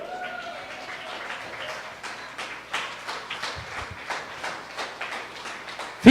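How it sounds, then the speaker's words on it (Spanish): A church congregation claps during a Spanish-language sermon, with scattered handclaps rising irregularly under a low murmur of voices before fading. "Denle un aplauso al Rey."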